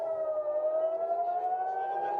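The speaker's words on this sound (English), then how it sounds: "So sirens going off in Israel after Iran has reportedly fired off some ballistic missiles toward Israel" Civil defense air raid siren wailing in Israel during a reported Iranian ballistic missile attack, a steady sustained tone that slowly rises in pitch, heard alone and moderately loud.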